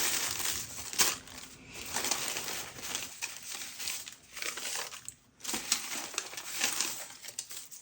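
Butcher paper is crumpled and torn for an abstract landscape collage, giving close, bursty crinkling and rustling with short pauses between handfuls and no talk.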